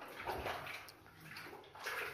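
Water flows steadily from a newly restored well, a quiet, continuous gushing and splashing with slight surges and no voices.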